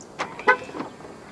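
A 2025 Omoda C9 2.0 Turbo AWD sounds two or three short, quiet horn chirps in quick succession as it locks via the front door handle, heard alone with no talk.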